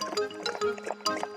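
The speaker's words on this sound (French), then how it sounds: "Elle remplit un bol d'eau bien fraîche." Cartoon water poured into a bowl, a short bright trickle with clinking, splashy accents in two bursts, close and clear with no talking.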